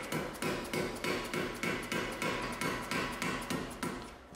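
Rapid, evenly spaced strikes of a small hammer on metal while working on a BMW E30 with a turbo M50 engine, about two per second, close and ringing, with no talking.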